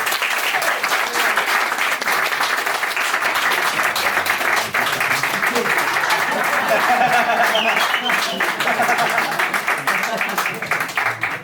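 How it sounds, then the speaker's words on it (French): An audience at a stand-up comedy workshop show gives a long burst of dense, loud applause that holds steady, with voices mixing in over the clapping. "je vais vous demander un tonnerre d'applaudissements pour Framboise"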